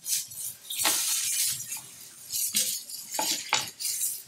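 A knife slicing through kielbasa sausage on a board while making confetti kielbasa, with a few firm cutting strokes and light clinks of utensils, close and fairly quiet, no talking.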